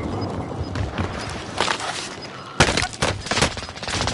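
Gunfire in a PS5 shooter game, with bursts of shots and sharp impacts, one louder burst midway, over a busy battle backdrop.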